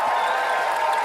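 Steady applause from a podcast audience, a dense continuous patter of many hands clapping at moderate loudness, filling the whole moment without pauses.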